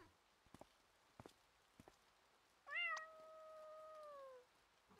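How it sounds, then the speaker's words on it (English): A cat meows once in the video game Impostor Factory, a clear, drawn-out rising-then-level meow near the middle, preceded by a few faint soft taps and footsteps in an otherwise quiet scene. "Cute cat."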